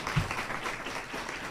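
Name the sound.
applause for the scheduled poetry readers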